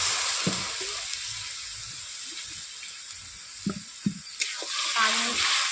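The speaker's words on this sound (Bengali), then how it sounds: "এরপর অল্প করে জল দিয়ে দিচ্ছি।" Water is poured into a spice masala frying in a pan, raising a loud, continuous hissing sizzle, with several low utensil knocks and clatters toward the end.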